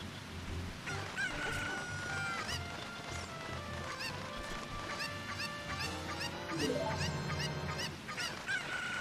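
A chicken in the Zelda Ocarina of Time randomizer video game, repeatedly crowing and clucking in loud, close calls over a steady background of game sound.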